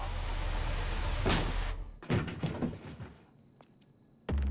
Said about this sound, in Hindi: दरवाजा तोड़ना पड़ेगा।